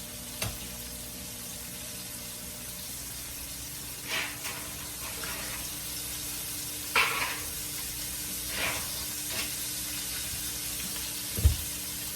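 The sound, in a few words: chicken frying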